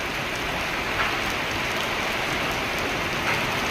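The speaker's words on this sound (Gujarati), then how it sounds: "તમને આ બાજુથી પણ વરસાદ બતાવી દઉં કે કેટલું વરસાદ પડી રહ્યું છે" Heavy rain pours down in Vadodara as a steady, dense hiss of drops drumming on surfaces, loud and unbroken throughout with no voices.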